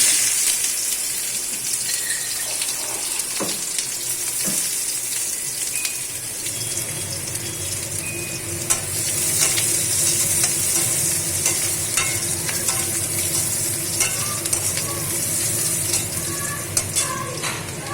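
Chopped onion fries in hot oil after a black cumin and radhuni tempering, a steady close sizzle running throughout with occasional stirring clinks and scrapes.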